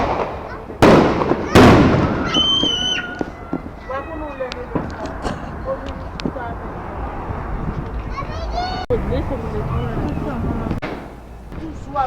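4th of July fireworks bursting outdoors, with two loud booms near the start followed by a crackling, echoing barrage of smaller pops and whistles, while people talk over the noise.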